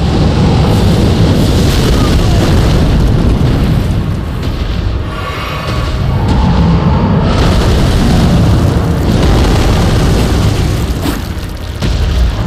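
Fire attacks in the Elden Ring Fire Giant fight: loud, continuous roaring flames and booming bursts that fill the whole stretch with a few brief dips.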